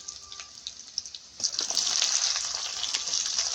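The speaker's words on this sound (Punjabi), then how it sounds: "ਪਿਆਜ਼ ਤੇ ਆਲੂਆਂ ਨੂੰ ਆਪਾਂ ਇਕੱਠੇ ਭੁੰਨ ਲਾਂਗੇ" Onions and potatoes with garlic hit a hot pan, quiet at first with a few spatters, then bursting into a loud, steady sizzle that holds to the end.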